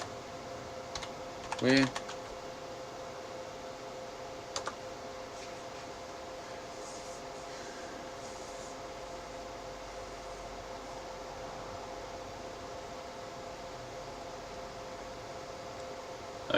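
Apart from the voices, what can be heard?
typing a web search on a computer keyboard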